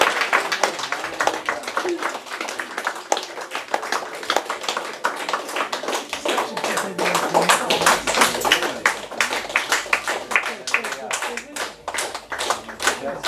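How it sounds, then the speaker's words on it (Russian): A church congregation at an Orthodox-style worship service in Moscow breaks into sustained, dense applause, many hands clapping close and loud throughout, with voices speaking over it. "Аплодисменты Отцу"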